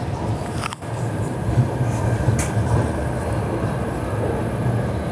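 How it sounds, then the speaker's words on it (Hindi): Mumbai Amravati Superfast Express pulling into Bhusawal junction, a steady loud low rumble of the rolling train with faint rail clatter and a brief knock near the start, no talking. "अभी हमारी ट्रेन पहुंची है भुसावल जंक्शन"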